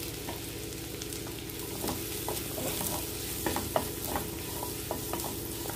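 Chopped mushrooms sautéing in a pan for an omelette, a low continuous sizzle with scattered light clicks and scrapes of a spatula, no speech.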